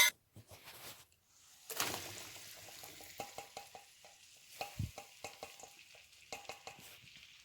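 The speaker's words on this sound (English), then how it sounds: "Mix well to coat the mango pieces with the chili" Mango pieces being stirred into chili powder in a pan for Kerala mango pickle, giving quiet, rhythmic scraping and sizzling strokes in short repeated bursts, close and faint with no talking.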